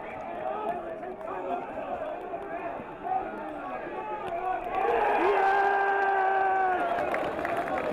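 Home crowd at a Clontarf versus Old Belvedere rugby match cheering and clapping, a loud sustained roar rising over the closing seconds with whoops, under a commentator's voice.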